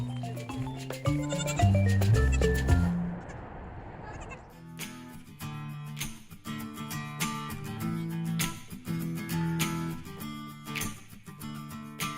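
Goats bleat at an outdoor goat yoga session in Nevada, a cluster of loud, wavering cries up close at the start, then a lull and a busier stretch of overlapping calls and bustle.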